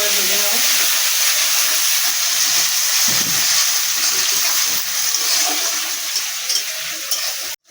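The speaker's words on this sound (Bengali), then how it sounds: "এবার মাছ ভাজার তেলের মধ্যেই আমি কুচনো পেঁয়াজগুলো দিয়ে দিচ্ছি" Chopped onions fry in leftover fish-frying oil in a pan, giving a loud, continuous sizzle that barely changes throughout.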